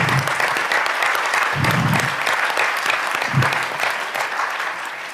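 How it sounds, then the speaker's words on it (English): Sustained applause from a school board meeting audience honoring athletes, a steady dense wash of clapping that holds for the full length, fairly loud and close. "Can we get another round of applause for our athletes?"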